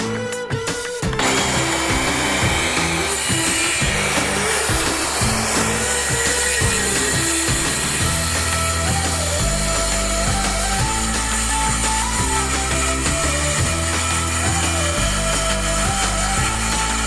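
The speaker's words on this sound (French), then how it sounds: "Le temps d'arriver près de ma scie pour faire la découpe." Power saw cutting an OSB floor panel during a home renovation, a loud, steady whining motor running almost continuously close by, with the pitch shifting slightly as the blade works through the board.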